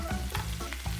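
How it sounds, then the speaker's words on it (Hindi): Cumin, ginger, garlic and finely chopped green chilli sizzle steadily in hot oil in a home kitchen, a continuous close frying crackle with a few soft stirring scrapes. "जीरे के बाद डालेंगे इसमें अदरक और लहसुन, बारीक कटी हुई हरी मिर्च। अब इन्हें फ्राई कर लेंगे।"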